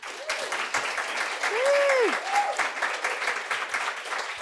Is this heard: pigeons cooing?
no